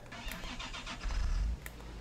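A Belarus tractor in Farming Simulator 2015 cranks and catches, its engine swelling into a loud low rumble for a moment before settling into an idle.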